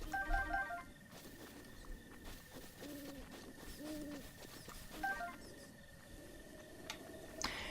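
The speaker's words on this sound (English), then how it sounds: "Every time I hear that owl sound, I can't help but think of Mario 64" An owl hoots in Zelda: Breath of the Wild, with a pair of low, rounded hoots around the middle over steady in-game ambience and faint music.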